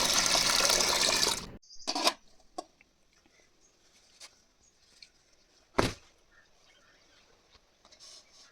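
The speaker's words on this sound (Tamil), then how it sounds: "இப்போ ஒரு இட்லி பாத்திரத்தை வச்சு அதில் தண்ணி ஊற்றிக்கலாம்." Water is poured into an idli steamer pot for steaming ragi dough: a loud, steady rushing pour for about a second and a half, followed by near silence with a few faint clinks and taps.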